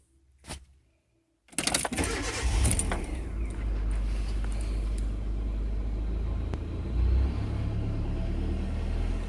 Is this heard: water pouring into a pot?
no